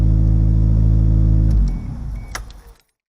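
A Toyota Celica ST165 turbo engine idles with a loud, steady low hum, then is switched off and sputters down to silence within about a second, with a faint metallic jingle as it dies.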